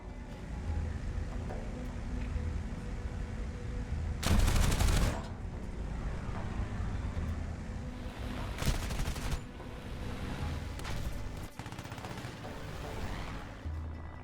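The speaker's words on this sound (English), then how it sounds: "Augarten placed himself behind the Egyptian fighter and opened fire." Bursts of machine gun fire from a fighter plane during an air engagement over El Arish, Egypt: a loud, dense burst near the start, then shorter, quieter rattling bursts later amid a steady rumbling background.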